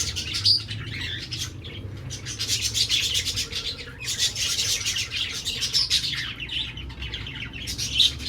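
Pigeons call and flap near by, with repeated bursts of bright chirping, soft cooing and fluttering wing sounds over low background rumble.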